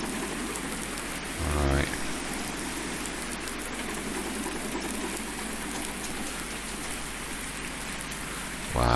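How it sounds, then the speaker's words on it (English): Simulated rain in the farming game Farming Simulator 19 hisses as a steady, dense downpour throughout, with brief low thumps near the start and end and a quiet word of talk over it. "Wow, this is real rain."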